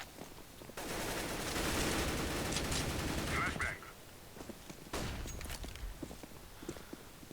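Rapid gunfire bursts in a competitive video game shooter match with a bomb objective, loud dense shooting in the middle and scattered shots and footsteps after, with a voice talking over the game.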